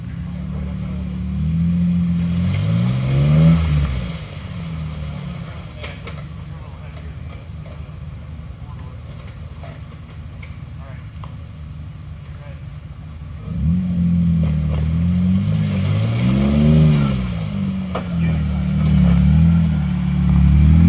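A Jeep engine rumbling and revving as it crawls a slimy, rocky mud trail at a Bantam Jeep Heritage Festival, with two loud rev surges at the start and end around a steadier idle, and people talking nearby.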